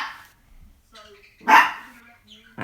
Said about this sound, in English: We're going to have the dog barking now.